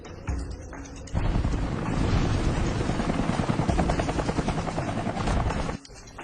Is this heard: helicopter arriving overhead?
yes